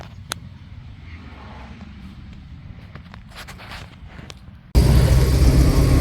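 An International Scout rolls along with a low steady engine rumble and road noise, which jumps abruptly louder and broader as it merges onto the interstate.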